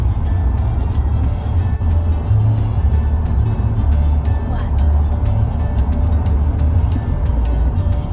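Inside a moving car on a highway, a constant low road and engine rumble fills the cabin, loud and steady, with occasional small rattles and clicks.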